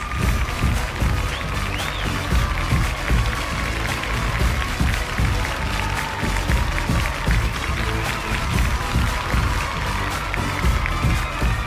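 Dense, steady applause from a large audience at the 9th Annual Vijay Television Awards, with cheering mixed in and music tones running underneath throughout.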